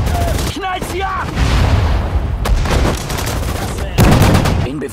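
Bursts of rifle and machine-gun fire in a WWII strategy game battle at Lille, 1940, loud and continuous with booming impacts, while a voice calls out briefly.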